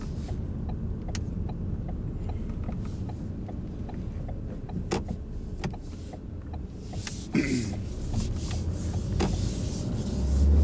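A car turns right during a driving lesson: a steady interior engine and road rumble with faint rubbing and clicking, swelling slightly toward the end.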